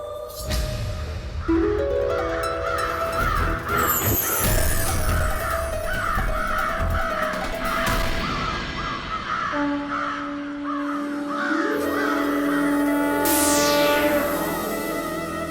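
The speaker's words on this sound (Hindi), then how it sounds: "काव काव काव काव काव" Several crows caw in repeated rhythmic bursts, loud and close, within a busy mix of other sounds and some echo, with no talk.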